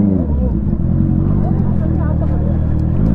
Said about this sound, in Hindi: यहाँ पे तो थ्रॉटल करना ही पड़ेगा नहीं तो स्पेस नहीं मिलेगी हमें चलने की